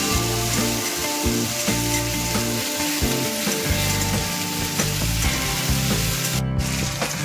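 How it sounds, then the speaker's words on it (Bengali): Chopped tomatoes fry in hot oil in a pan for Kashmiri stuffed aloo dum, with a steady, loud sizzle throughout and stirring scrapes rising and falling beneath it. "দিয়ে ভালো করে একটু ভাজা ভাজা করে নিচ্ছি।"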